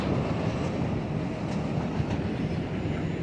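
A train rumbles past close by, heard from a pedestrian bridge: a continuous heavy roar with rattling wheels and faint clacking, no voices.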